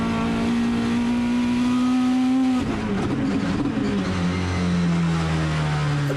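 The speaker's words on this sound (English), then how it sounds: "It really does give you a scope of how fast, incredibly fast this car is when you see the in-car" An open-wheel race car on a Speedweek broadcast screams at high revs from an onboard view, its engine note holding steady then dropping through a shift and climbing again, continuous and loud with no talk.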